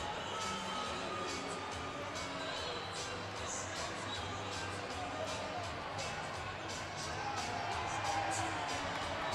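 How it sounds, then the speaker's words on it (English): Sellout crowd filling Value City Arena at a Michigan vs Ohio State hockey game, a steady wash of cheering and crowd noise throughout with occasional whoops, swelling slightly near the end. "a sellout crowd here at Value City Arena has filled up quite nicely"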